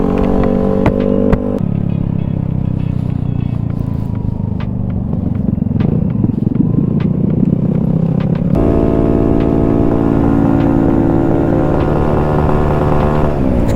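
A Vespa Sprint 150 scooter engine revs hard and holds near its rev limit, a loud buzzing roar that steps up in pitch partway through, close by.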